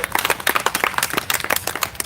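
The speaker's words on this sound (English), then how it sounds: "So give you guys a round of applause." Close, lively clapping from a crowd at a street march, sharp irregular claps overlapping into brisk applause with no voices over it.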